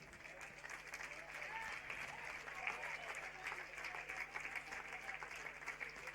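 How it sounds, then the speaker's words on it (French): Rugby crowd at a Castres match applauding an injured player leaving the pitch, faint steady clapping from a distant stand under a commentator's voice. "Les applaudissements du public"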